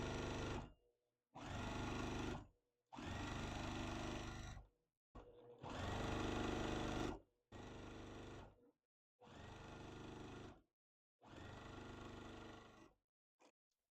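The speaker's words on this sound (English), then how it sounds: "what I'm going to do now is sew all of them together to complete the" A sewing machine chain piecing sections of a Farmers Star quilt block for a barn star sampler quilt, stitching in about seven steady, close bursts separated by short pauses.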